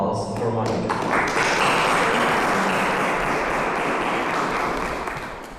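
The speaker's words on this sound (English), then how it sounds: "A round of applause for Monica." An audience at a conference session breaks into sustained clapping for a presenter, loud and even throughout, fading slightly at the end, with faint voices mixed underneath.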